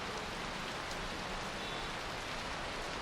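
Rain falls outside in a noir video game, a dense, even hiss of drops striking surfaces, faint and unbroken throughout with no voices.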